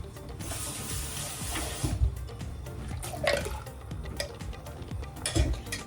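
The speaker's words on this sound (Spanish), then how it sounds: "Y esto le vamos a agregar un poco de agua." Water runs and splashes steadily into a cooking pot holding tomato sauce, a continuous pouring stream with a few clinks and small knocks.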